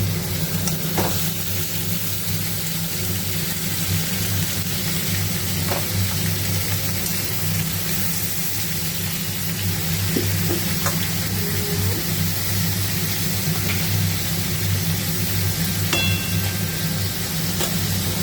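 Ridge gourd, potato and eggplant pieces fry with black cumin in a hot pan, giving a steady, close, even sizzle with faint scrapes and pops throughout and no talking.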